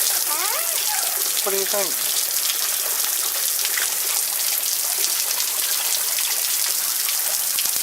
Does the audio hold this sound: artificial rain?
yes